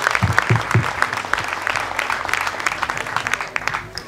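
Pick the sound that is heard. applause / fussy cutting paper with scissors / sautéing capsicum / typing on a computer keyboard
applause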